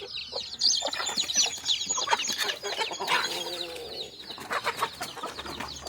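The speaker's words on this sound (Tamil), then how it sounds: "கோழி கூட திறந்துவிட்டேன்." Native country chickens clucking after being let out of their coop, a dense stream of overlapping clucks and calls from several birds, close and steady throughout.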